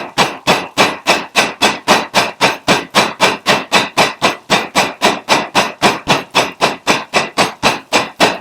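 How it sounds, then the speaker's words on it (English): Duck breast meat pounded flat to about a quarter inch at an outdoor camp kitchen, a steady run of roughly thirty sharp, evenly spaced blows, loud and close, with no talk. "We want to just take it, pound it out to it's about 1/4 of an inch thin."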